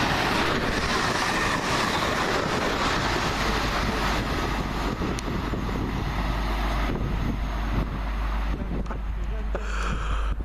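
A train from Birmingham to London Euston rushing past at Cheddington, a loud continuous roar with rattling wheels and rail clatter, wind buffeting the microphone throughout.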